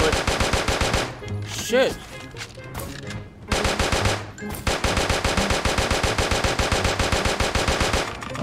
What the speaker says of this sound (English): God damn, I'm wasting all my bullets.